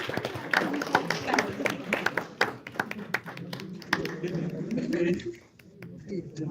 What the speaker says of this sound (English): a huge round of applause for them